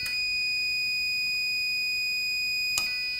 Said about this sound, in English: I should see my meter switch from OL to continuity.